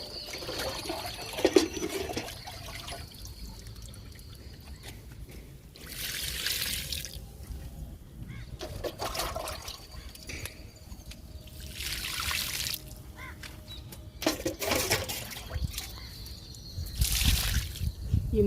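Oats and kitchen waste liquid fertilizer poured onto moringa and vegetable plants, repeated splashing pours and trickles at close range, several separate bursts of liquid hitting soil and leaves with pauses between them.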